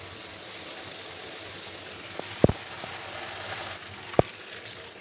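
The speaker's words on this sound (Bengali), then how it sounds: "এবার এই তেলের মধ্যে আমি ফোড়নে দিলাম শুকনো লঙ্কা, গোটা গরম মশলা" Dry red chillies, whole garam masala and cumin seeds sizzle in hot oil with a soft, steady crackle, broken by a few sharp pops and spits, fairly quiet and close with no talk.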